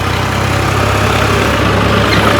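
A modified John Deere tractor engine runs steadily at idle, a loud, continuous low rumble with a regular throb and no talk over it.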